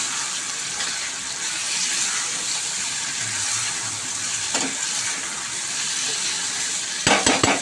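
Small boiled baby potatoes frying in a pan for aloo dum, a steady broadband sizzle throughout with a brief clatter near the end.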